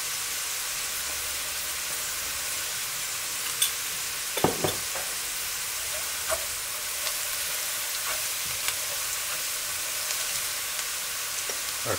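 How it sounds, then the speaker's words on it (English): Steady bright sizzling of onions frying in a pan, with a few soft clinks and scrapes of stirring scattered through. "We're frying the onions for."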